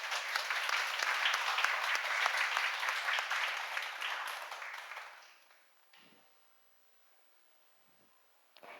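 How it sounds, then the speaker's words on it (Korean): A church congregation at a Sunday worship service claps together in thanks to God, a dense, sustained burst of applause that swells and then fades out over about five seconds, leaving near silence. "괜찮으시면 하나님께 감사의 박수 한번 드려도 될까요?"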